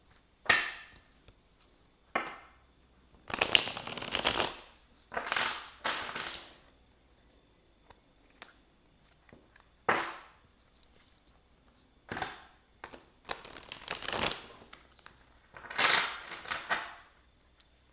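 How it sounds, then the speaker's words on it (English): A deck of tarot cards is shuffled in repeated bursts of crisp riffling and slapping, each lasting about a second, separated by short quiet gaps. "I feel we need to shuffle these again."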